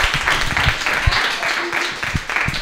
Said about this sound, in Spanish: Pues venga, un aplauso para él,